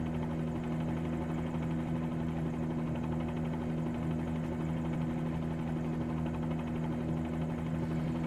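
A Bell 47G helicopter in a flight simulator game flies steadily, its engine and rotor making a constant droning buzz with a low hum throughout, alone and without pauses.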